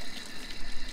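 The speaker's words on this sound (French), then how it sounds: "je suis tranquille sous ma douche sur mon chantier" Water runs steadily from an outdoor garden shower on a building site, a close, continuous splashing hiss with no voices.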